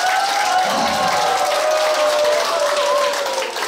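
Audience applause fills a singing class in Jeonju, Korea, welcoming a guest singer: steady, dense clapping from a close crowd holds for the whole stretch, with a faint tonal hum underneath.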